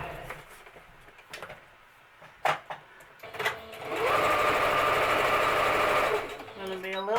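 A sewing machine stitches around fabric: a few clicks and handling knocks come first, then a steady whirring run of about two seconds at close range, ending with a short wind-down. No speech is heard.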